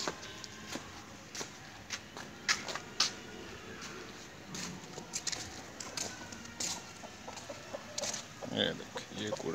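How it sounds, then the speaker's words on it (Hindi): A broody backyard hen of an aseel flock clucks in short, repeated bursts close by, with scattered chick peeps and other bird calls around it. "ये देख ये कुड़क हो गई है मुर्गी।"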